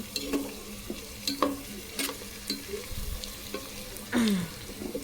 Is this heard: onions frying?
yes